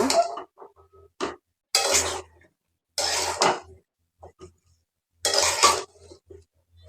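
Gourd greens being stirred and sautéed in a pan for a dried-fish dish, heard as several separate bursts of scraping and clattering utensil strokes with quiet gaps between them.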